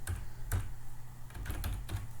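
Typing on a computer keyboard during a programming lesson, a few scattered clicks then a quicker burst of keystrokes, close and fairly soft, with no talk.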